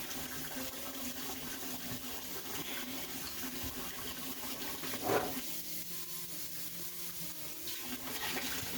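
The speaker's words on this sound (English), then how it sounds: "Now I can rinse it out with a rag because I'm done using it" A kitchen tap runs steadily while a rag is rinsed, a soft continuous rush of water with a brief louder splash midway, fairly faint and without talk.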